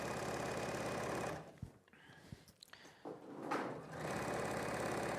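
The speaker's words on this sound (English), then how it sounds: "I'm just going to sew all the way a centimetre." A sewing machine stitching a set-in sleeve seam runs in a rapid, steady chatter, pauses for a second or two amid small handling clicks, then starts stitching again close up.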